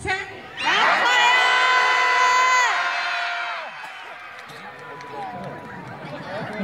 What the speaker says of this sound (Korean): 다시 한번 크게 외치겠습니다.